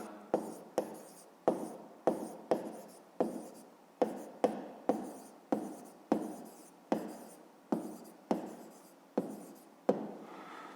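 A hand writing on a board during a fifth-grade maths lesson, a rhythmic series of about fifteen sharp taps, each trailing into a short scratchy stroke, close and alone with no talking.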